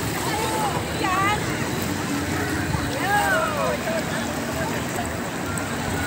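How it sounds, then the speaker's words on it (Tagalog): Sea waves wash steadily onto the shore at Matabungkay Beach as a continuous surf rush, with people talking nearby over it. "Ayun na, umalon na, oh."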